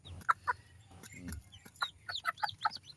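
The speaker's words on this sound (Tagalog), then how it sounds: "nagtatawag na po yung kanyang nanay, nagtatawag na po sa mga sisiw para kumain na raw sila" A mother hen clucks to call her chicks to eat, giving short, close, repeated clucks in uneven bursts with brief pauses, and no one speaks.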